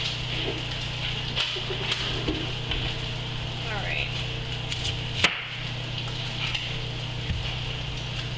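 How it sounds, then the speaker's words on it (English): A knife chopping red onion in a home kitchen, with a handful of sharp, irregular strikes on the board over a steady low appliance hum. "we're gonna go ahead and cut up some red onion."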